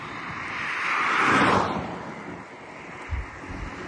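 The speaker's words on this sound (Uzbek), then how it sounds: "Shamol bo'lyapti, shamol." Wind rushes outdoors in a long swelling gust that peaks and fades, buffeting the microphone, with a couple of low thumps near the end and no talking.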